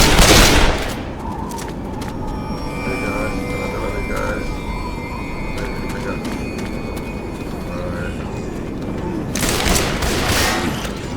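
Bomb blast in the Left 4 Dead 2 construction-site campaign, a loud opening burst that rolls into a long, rumbling stretch of gunfire and debris before a second swell near the end; voices talk over it.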